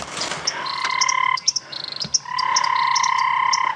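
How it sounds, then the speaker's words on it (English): Tremolo sand frog calling on an evening safari drive: repeated sustained trilling notes, close and clear, broken by a short gap and a few clicks, then resuming with other frogs or insects chirping faintly around it. "This little frog, it was a tremolo sand frog"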